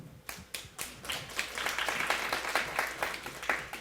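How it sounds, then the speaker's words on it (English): An audience claps for a volunteer called to the stage at a student cultural heritage interpretation contest, starting with a few separate claps and building into quick, uneven applause from a modest crowd. "Please give him a round of applause, please."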